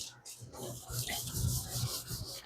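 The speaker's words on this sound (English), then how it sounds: "and I'm wet sanding here." Steady wet rubbing and rasping, an 800-grit sanding sponge scrubbed back and forth over a surface in wet sanding, in an uneven rhythm, close and moderately loud.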